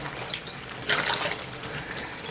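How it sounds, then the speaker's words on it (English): Boiling water is poured into a clean glass jar while making cranberry jam, a soft, steady liquid splash that swells briefly in the middle, heard close with no talking. "pour some boiling water on it."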